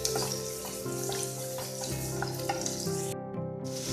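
Shallots frying in oil in a pan produce a moderate, continuous sizzle, heard close and accompanied by steady tonal sounds throughout.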